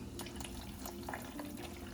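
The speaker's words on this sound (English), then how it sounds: "I'm gonna put like 6 ounces of beer in the water." About six ounces of beer poured into a pot of water and butter for a seafood boil, a steady liquid splashing with small bursts, close and continuous, no voices.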